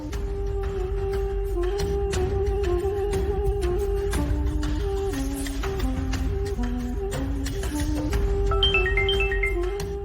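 A phone rings with a repeating electronic melody of stepped tones in a Tamil TV serial scene, continuous and fairly loud over a low background hum.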